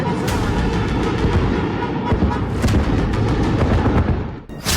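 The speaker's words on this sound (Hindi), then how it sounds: "आधे घंटे के अंदर धमाके ही धमाके होते हैं।" Continuous rumbling blasts and booms from a Russian missile attack on Kyiv at night, loud and dense, with sharper cracks near the start and middle, then a brief dip before another burst.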